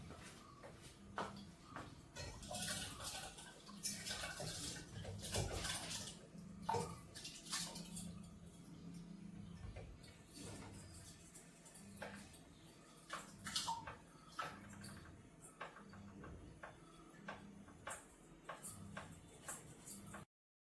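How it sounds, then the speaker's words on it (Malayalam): Rice being washed in a kitchen, first with tap water and then with filtered water, gives quiet splashing, swishing and trickling with small clinks and shuffles, fairly close and without talk. "രണ്ട് പ്രാവശ്യം പൈപ്പിൽ നിന്ന് കഴുകിയിട്ട് പിന്നെ ഈ ഫിൽറ്റർ വെള്ളം കൊണ്ടും കൂടെ കഴുകൂട്ടാ"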